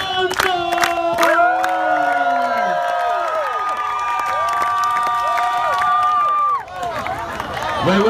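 A street show crowd in Santa Monica cheers, whoops and shouts loudly and continuously for several seconds, dense overlapping voices rising and falling near the listener.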